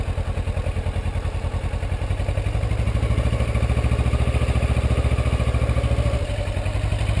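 A motorcycle engine chugs with a rapid, steady low thumping pulse that rises slightly in intensity as throttle is added, sounding close and continuous with light mechanical clatter.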